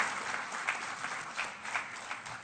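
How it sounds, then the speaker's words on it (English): Audience applause at a tribal honoring-nations presentation, a moderately quiet, continuous patter of many hands with slight swells, heard from some distance. "we all should give each other a big round of applause"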